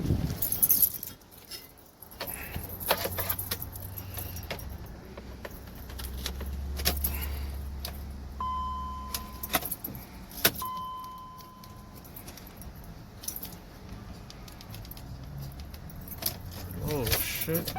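A BMW X5 3.0i cranks over repeatedly without catching, the starter whirring in short bursts amid jingling keys, clicks and a chime, with a person speaking briefly in between.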